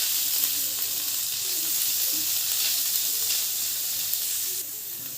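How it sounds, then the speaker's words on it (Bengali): Fish coated in salt, turmeric and spice powder fries in a pan, a steady close sizzle and hiss throughout, with soft stirring scrapes beneath. "ভালোভাবে নেড়ে চেড়ে নেব"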